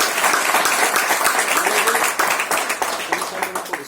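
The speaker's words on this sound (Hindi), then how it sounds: "एक बार जोरदार तालियां हो जाए" Loud, energetic applause from attendees at a training session, a thick rapid clatter of many hands filling the room continuously for about four seconds.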